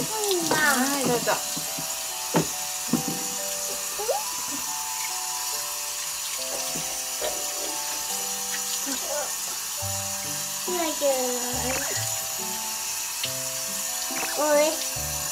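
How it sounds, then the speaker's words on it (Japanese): Tap water runs steadily as foam is rinsed off at a sink, a continuous wash of splashing under repeated chatter and exclamations from people nearby. "泡を流してください"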